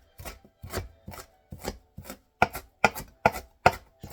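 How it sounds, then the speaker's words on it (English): A knife mincing fresh parsley for tabouleh on a cutting board produces a steady run of about ten crisp chops, close and distinct, growing slightly sharper toward the end. "So let's mince up the parsley, nice and small, nice and snug."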